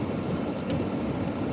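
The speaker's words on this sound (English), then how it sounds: "We're like right on the line between snow and freezing rain" Freezing rain and sleet pattering during a morning drive toward Gettysburg, a dense, steady wash of precipitation over a low rumble, constant throughout with no voices.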